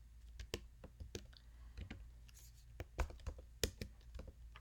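Keys clatter on a computer keyboard in quick, uneven bursts of sharp, close clicks, with short pauses between groups of strokes and a quiet room behind them.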